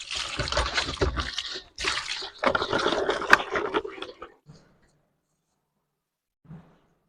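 Vegetables, including brinjal, are rinsed by hand in water in a village kitchen in Pakistan, with steady splashing and sloshing for about four seconds, then near silence broken by one faint soft rustle.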